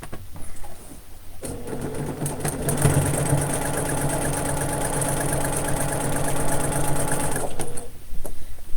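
A sewing machine stitches quilt pieces together for a quilt block, a steady rapid mechanical whir that starts after a brief pause and stops near the end, loud and close.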